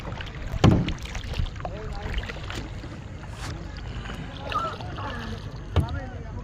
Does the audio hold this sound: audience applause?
no